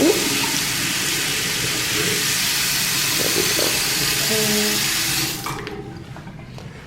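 Water gushing steadily from a tap into a sink in a hospital room, loud and close, warming up to fill a bottle, then cut off near the end as a voice says a few words.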